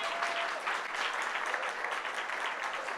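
A benefit audience gives a big round of applause for a board chair, steady, dense clapping from a large crowd, even and sustained throughout without a break.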